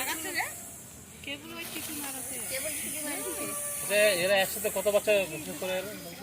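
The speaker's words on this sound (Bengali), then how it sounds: "এরা খুব সিগনাল দেয় এই দেখুন প্রেশার কুকারের যে সিটি সেম ওই রকম সিটি" A venomous snake hisses in sustained bursts like a pressure cooker whistle, close by during a snake rescue, while people talk over it throughout.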